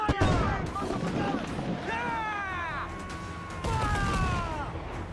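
Ship cannons fire during a naval battle against a frigate in the pirate game Assassin's Creed Black Flag, with loud booming blasts amid game music, crew shouting and voices talking over the action.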